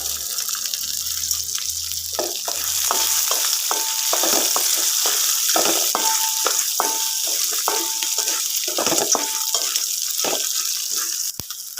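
Coriander seeds, dried chilies and fenugreek dry-roasting in a hot pan, a steady close sizzle and crackle with scraping stirs and light clinks of a spoon against the metal, continuous with no talking.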